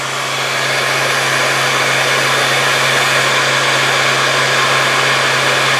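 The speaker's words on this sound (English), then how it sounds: "That's just the motor." An electric motor in a self-loop generator setup runs with a loud, steady whirring hum, constant and unbroken throughout.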